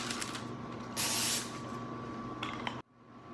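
Cooking spray hisses in one short, bright burst onto a parchment-lined 8x8 baking pan, set against a quiet kitchen hum that cuts off shortly afterward.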